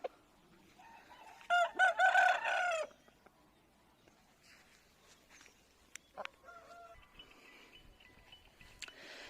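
An Aseel rooster on a farm lets out one loud, close crow lasting just over a second, followed later by a softer, shorter call amid faint farmyard background.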